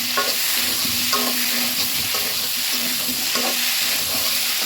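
Spice paste for a rohu fish curry with potato and ginger fries loudly in hot oil in a continuous close sizzle. Rhythmic scrapes of stirring recur about once a second.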